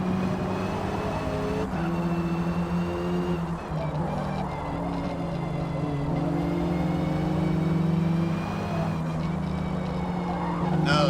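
A Ford racing car in the Forza driving game drones with a steady, loud engine note, shifting pitch through gear changes and sharp upshifts, while other cars are passed; the tone stays continuous throughout.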